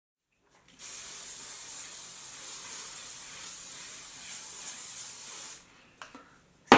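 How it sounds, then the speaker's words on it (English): A steady hairspray mist hisses onto hair for about five seconds, then stops. A few faint handling clicks and knocks follow. "spray it to seal it all in place"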